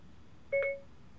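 A Pioneer DEH X7800BHS car stereo gives a single short electronic beep after its phone button is held, a clean tonal chirp over faint background hum.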